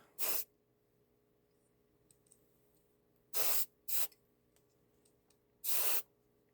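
Three short bursts of spray paint hissing from a nearby can onto a 1/32 scale Trumpeter TBD Devastator model engine, with quiet pauses between them and faint clicks in the background.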